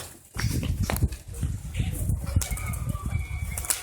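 Homing pigeons flap their wings in quick bursts close by, mixed with rustling and cage clatter over steady background noise.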